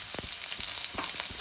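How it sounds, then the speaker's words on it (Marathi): Chopped onion fries in two to three spoons of oil in a pan, a continuous close crackling sizzle with a few soft stirring scrapes, heard alone without talk. "आणि चांगला मस्तपैकी लालूच होईपर्यंत आपण हा फ्राय करून घेऊया जरा थोडासा"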